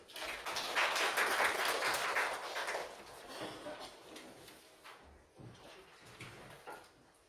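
Audience applause at a housing welfare conference in Korea greets the next presenter, a dense burst of clapping that swells over the first three seconds, then thins out and tapers off with scattered claps.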